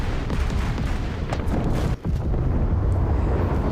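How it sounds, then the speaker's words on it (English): Ship magazine explosion aboard the Kronshtadt heavy battlecruiser in War Thunder Mobile: dense, sustained rumbling booms and blasts filling the mix loudly for several seconds, with a brief dip midway. "when the magazine of a ship explodes, that's equal to a tank's ammo rack exploding"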